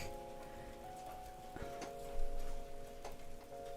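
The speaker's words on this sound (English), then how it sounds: "It is raining. It's like actually raining." Rain falls straight down outside a house at night, a faint steady patter with a few light ticks and taps in a quiet room, alone without talk.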